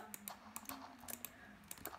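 Fingers tap rapidly on a mobile phone screen, a quick irregular run of faint clicks over a soft low hum.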